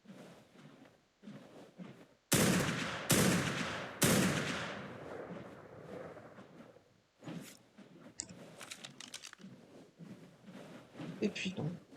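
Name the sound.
gunshots in the video game Ark Primal Fear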